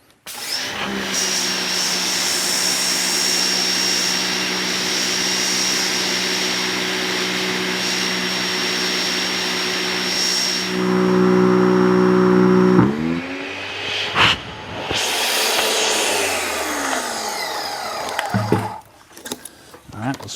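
Steady loud motor drone of an AR Blue Clean pressure washer pump running while spraying, holding constant for about twelve seconds before cutting out, followed by scattered handling clatter.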